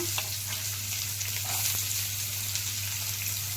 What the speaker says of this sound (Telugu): ఇప్పుడు సన్నగా తరిగిన ఉల్లిపాయ ముక్కలు వేసుకుందాం